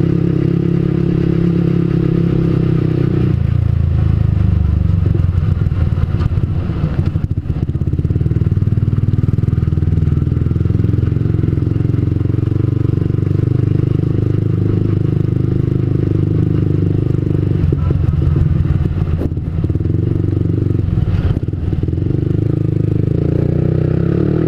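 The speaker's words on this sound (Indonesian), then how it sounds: "Saya sih suka dengan karakter suara knalpot ini ya" A motorcycle engine idles steadily close by, a low rumbling exhaust throb with a few small clattering bumps, no voices.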